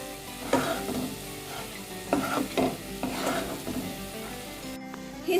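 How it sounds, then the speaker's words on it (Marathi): Mushroom masala gravy being sautéed in oil until the oil separates, dhaba style, with a spatula scraping and stirring in a pan in bursts over a soft steady sizzle, close up and without talking. "तेल सुटेपर्यंत छान परतून घ्यायचं"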